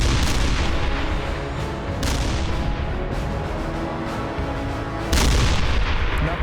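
Tank guns firing during the Egyptian–Israeli tank battle in the Sinai, a dense, continuous roar of heavy booms and blasts with a fresh loud surge near the end.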